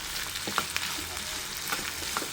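Spiny gourd fries in a pan with turmeric and salt while being stirred, a steady soft sizzle broken by a few sharp scrapes of the spoon against the pan.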